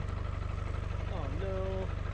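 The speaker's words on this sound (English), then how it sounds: "Oh, the exhaust is blowing." Running Land Rover 200Tdi diesel engine with a blowing exhaust, a close, rapid pulsing chug throughout while a voice speaks over it.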